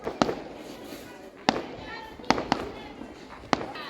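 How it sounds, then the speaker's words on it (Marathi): Five sharp firecracker bangs pop at irregular intervals, some close together, over a steady crowd murmur outdoors at a chariot festival procession. "फटाक्यांचा आवाज कसा आहे"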